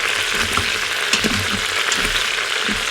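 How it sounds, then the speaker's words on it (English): Garlic sizzles steadily in hot oil in an Instant Pot as it is stirred, a loud continuous frying hiss with faint scraping, no voices. "Now I'm going to throw in our garlic and stir that in."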